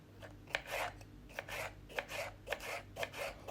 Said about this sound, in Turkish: Normal bir şekilde kıyalım.